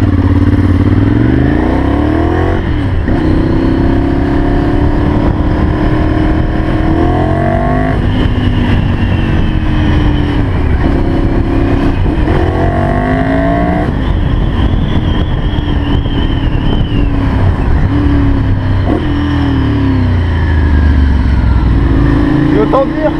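A Ducati Monster 796 motorcycle pulls hard through repeated rising revs and gear changes, loud and close, its engine note climbing and dropping in surges over a long stretch of riding.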